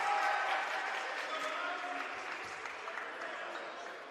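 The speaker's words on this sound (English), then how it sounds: "They're cheering him on." A college basketball crowd applauds and cheers a player in a gym, a broad sustained roar that starts loud and gradually eases, with a commentator's voice faintly mixed in.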